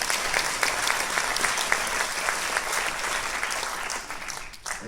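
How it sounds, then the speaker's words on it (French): An audience at a theatre show applauding Pauline, the evening's presenter: dense, sustained clapping from a full room, steady throughout and easing slightly toward the end. "est-ce qu'on pourrait applaudir Pauline quand même qui fait cette présentation de soirée"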